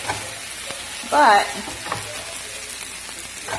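Boiled gnocchi browning in a frying pan give a soft, steady sizzle, with a brief louder burst of frying noise partway through and a short spoken word.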